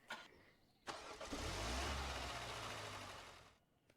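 A car engine in the Roblox game Dusty Trip revs up loud and steady as the vehicle drives, rising after a short pause and fading near the end, with no talk.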